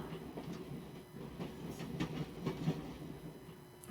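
A train rolls along the rails in a video game, a low rumbling clatter of wheels and cars with rhythmic clicks and knocks, steady and moderately quiet, with no talking.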